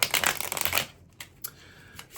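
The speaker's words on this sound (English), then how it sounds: "I'll just give the cards one more shuffle" Tarot cards being shuffled in a riffling burst of rapid papery flutters for under a second, followed by a few soft isolated card taps in a quiet room.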